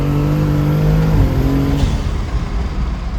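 BMW B58-engined car on a 3rd to 4th gear pull on a hot day, a loud, rising engine drone from inside the cabin that drops in pitch at the shift, then continues pulling under a rushing wind noise.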